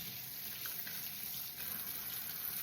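Tap water running steadily over freshly harvested arugula leaves being rinsed, a continuous close hiss of flowing water with no talking.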